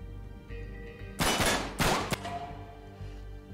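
Gunfire in the game Uncharted 3: Drake's Deception, two loud bursts of rapid shots with a sharp single crack after them, over a low hum of game music.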